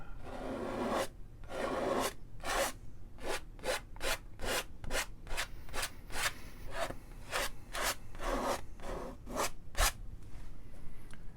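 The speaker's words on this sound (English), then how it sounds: "Time I scrape this off and move it around" Palette knife scraping paint across a canvas during a beginner mountain landscape painting demo, heard as a quick series of about twenty close, rasping strokes in a steady rhythm with no speech.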